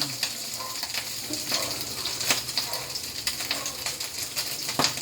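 Chicken sizzles and fries in a pan at home, with a continuous crackling hiss broken by short clinks and scrapes of stirring, close and fairly loud.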